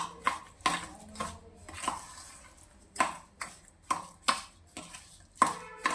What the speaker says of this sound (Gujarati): આ રીતે આપણે સરસ મિક્સ કરી લેવાનું છે